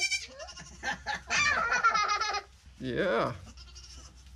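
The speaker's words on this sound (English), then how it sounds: "She's a sweet little goat." A young goat bleats in several quavering cries close by, a longer wavering call followed by a shorter one after a pause, with a person briefly speaking nearby.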